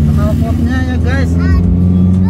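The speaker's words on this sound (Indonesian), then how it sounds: "Knalpotnya ya guys." An old car's exhaust rumbles in a low, steady idle, close by, with people talking over it.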